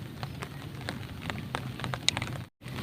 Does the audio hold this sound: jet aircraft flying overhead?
no